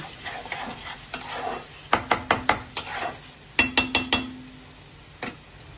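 Spice masala frying and being stirred in a pan for chicken kosha, a soft sizzle under a series of sharp, close spoon taps and scrapes against the metal, coming in quick clusters with short pauses between.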